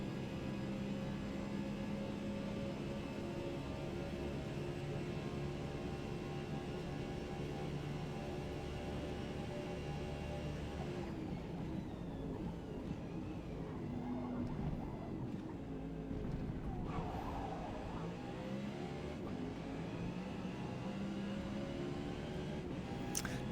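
A NASCAR Cup car engine in a racing game at Le Mans, a sustained, close, roaring drone with shifting pitch as the car accelerates and shifts, heard alone for the whole stretch.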